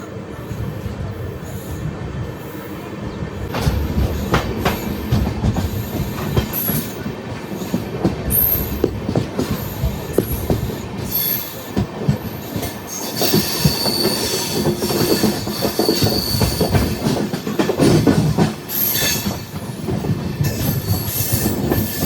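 Tirupati Express 17249/17250 with LHB coaches running, a steady loud rumble of wheels on rail with repeated metallic squeals and clatter throughout, heard from on board.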